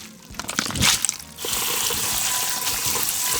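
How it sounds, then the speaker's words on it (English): Cold tap water runs in a steady, close stream for rinsing food in a kitchen, after a short burst of crinkling and handling noises. "So we're using cold water, right?"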